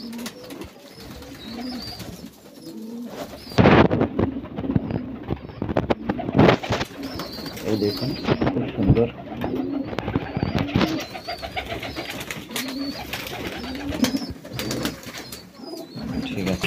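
Pigeons coo up close while one is held, with bursts of wing fluttering and struggling; someone talks over them at intervals.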